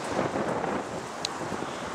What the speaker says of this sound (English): A little breezy, but it's warm.